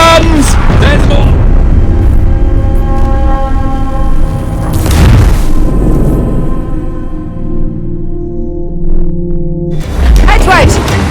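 Ship cannons fire in the pirate naval game Assassin's Creed Black Flag, heavy booming blasts in bursts amid ambient battle sound, with a voice talking over parts of it.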